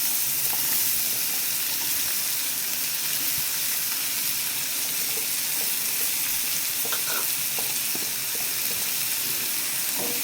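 Chopped onions sizzle steadily in a pan where garlic has already roasted brown, a dense continuous frying hiss with occasional faint stirring scrapes, close and even throughout.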